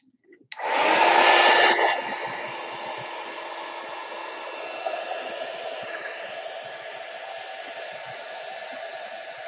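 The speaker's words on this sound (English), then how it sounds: "Heat gun." A heat gun clicks on and drying texture paper produces a steady, loud blowing roar. It starts with a sharp surge, then settles to an even whoosh that holds to the end.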